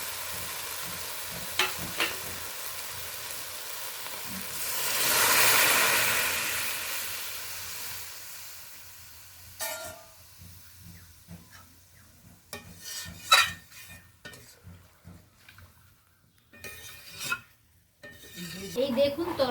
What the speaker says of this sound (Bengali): এই দেখুন তরকারিটা ফুটে গেছে।